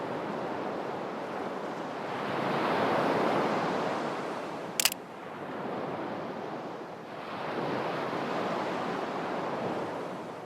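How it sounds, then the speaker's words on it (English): Rough sea waves break on the shore in steady, roaring surges of broadband wash, swelling and easing over several seconds, with a short sharp click in the middle and no voices. "the sea was rough"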